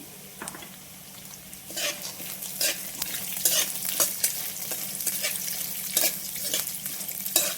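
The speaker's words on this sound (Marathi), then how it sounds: "आता यामध्ये आपण शेंगदाणा घालून घेऊ." Green chilies and peanuts roasting in a pan for poha premix, with a continuous close sizzle and frequent sharp spoon scrapes in an uneven rhythm, no talking.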